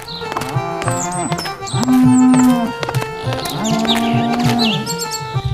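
Buffaloes lowing in a stable, several long, loud moos close by, with birds chirping in the background between calls.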